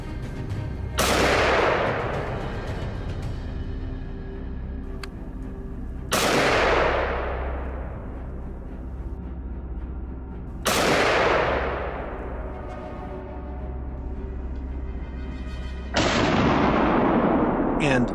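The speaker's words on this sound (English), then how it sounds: "a single shot from my teammate claimed another life just as cleanly" Rifle shots during a winter wild boar hunt in snowy woods: four loud separate blasts spaced roughly five seconds apart, each booming sharply and echoing away slowly across the open landscape.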